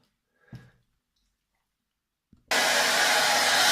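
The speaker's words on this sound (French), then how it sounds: "Donc là, je fais un petit coup de sèche-cheveux." A handheld hair dryer kicks on partway through on a cold-air setting during a hairpiece front-line touch-up, a loud steady broadband blowing after a brief click and near-silence.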